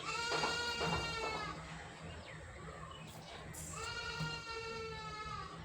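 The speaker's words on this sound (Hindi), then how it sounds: "सॉरी गाइस, बकरी की आवाज़ आ रही है." A goat bleats in two long, wavering calls, one at the start and another after a short pause, fairly close and clear over a low background hum.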